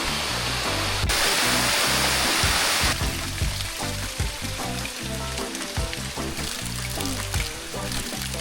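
A rain-swollen waterfall at a campsite in Real, Quezon roars with a dense, steady rush of falling water. A louder hissing burst comes early, then the flow continues under clattering, muffled handling noises near the microphone.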